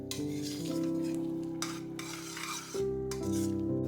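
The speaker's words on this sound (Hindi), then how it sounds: "और अब ग्रेवी के साथ भी पकाइए इन सारी चीजों को।" Butter chicken being stirred in its gravy in a pan, a soft scraping stir over a gentle sizzle, close and continuous with no talking.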